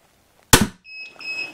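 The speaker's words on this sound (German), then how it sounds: "Und der zweite Schuss mit 75 Pfund." A single sharp snap from a Stinger crossbow fitted with 75 lb limbs, a loud crack after near silence that decays quickly, followed by two steady electronic beeps.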